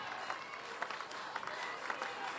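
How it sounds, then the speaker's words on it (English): Florida Gator fans at a college softball game against Georgia Tech cheer and clap as a steady crowd roar with scattered applause peaks, heard at a distance and fairly faint. "This crowd up on their feet. They are excited,"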